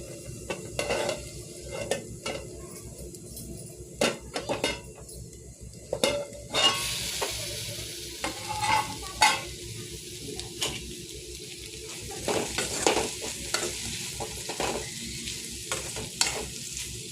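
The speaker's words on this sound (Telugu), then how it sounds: "ఇంకా కొంచెం ఫ్రై అవ్వాలండి ఇప్పుడు సగం మాత్రమే ఫ్రై అయ్యింది" Bitter gourd curry (kakarakaya fry) frying in a pan, with a steady soft sizzle broken by repeated scraping stir strokes and occasional utensil clinks against the pan, close and without voices.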